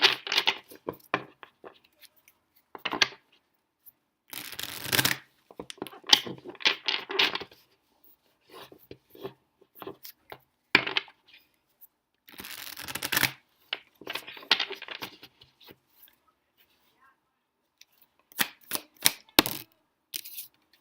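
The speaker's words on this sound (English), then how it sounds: "I'm just going to shuffle the cards." Tarot cards being shuffled by hand in short, crisp bursts of riffling and slapping, separated by pauses, close and fairly quiet with no talking.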